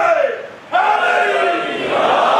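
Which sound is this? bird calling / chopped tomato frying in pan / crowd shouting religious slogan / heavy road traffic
crowd shouting religious slogan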